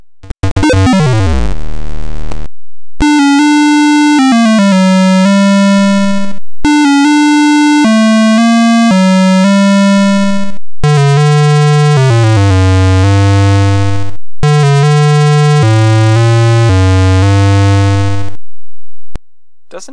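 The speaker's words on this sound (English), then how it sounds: "Though I do find the old school high score sound weird." The high score tune from the Mac game Crystal Quest plays loud and steady. Its buzzy synthesized tones hold long notes that step downward, giving a slow, somber, old-school electronic melody.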